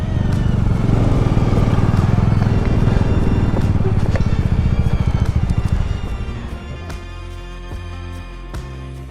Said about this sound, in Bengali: তো আপাতত এখানে পার্কিং এরিয়া, তো বাইকটা এখানে পার্কিং করে দেবো।